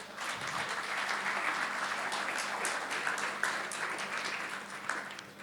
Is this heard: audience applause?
yes